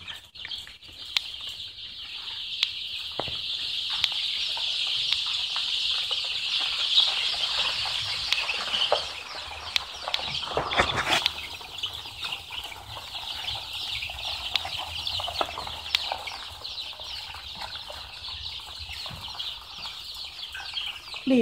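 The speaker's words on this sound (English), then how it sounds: "in order to encourage the chicks to drink, you need to walk around the brooder" Young chicks in a brooder during day-ten vaccination against Newcastle and infectious bronchitis diseases, peeping continuously in a dense, high chorus with occasional wing flutters and scuffles, steady and close throughout with no talk.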